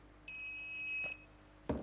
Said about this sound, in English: 3 seconds for it to beep